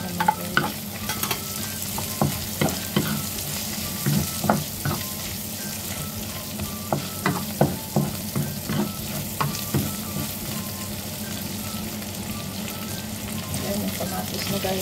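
Onion with ginger and garlic sautés in a pan, a continuous sizzle broken by a long run of rhythmic stirring knocks and scrapes, close and steady throughout.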